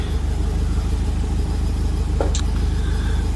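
A Caterham Seven SV Roadsport's engine idles at about 1,250 RPM in a steady, even low rumble with a brief faint click partway through.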